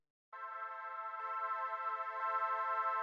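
A dry synth pad for a minimal house track, with effects switched off, enters abruptly after a short silence and sustains as a steady, bright, harmonically rich chord, slowly swelling in loudness, with no voices.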